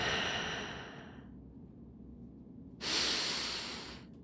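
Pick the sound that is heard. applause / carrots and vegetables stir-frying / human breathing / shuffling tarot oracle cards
human breathing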